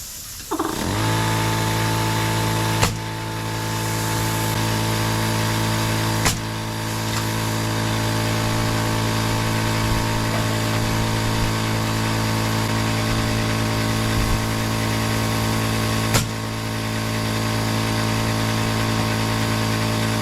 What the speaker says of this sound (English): I was waiting on that air compressor to turn off.